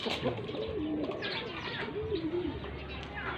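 Pigeons in a loft coo softly in low, rolling calls, repeating a few times over a faint background of chirps and ambient noise.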